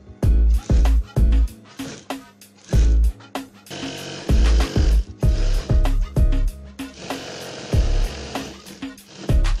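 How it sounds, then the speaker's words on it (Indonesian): Sewing machine stitching ruffles onto a bedcover, running in short loud bursts with brief pauses between stitch runs, close and steady, with no talking. "Mau saya jahit rempel semuanya."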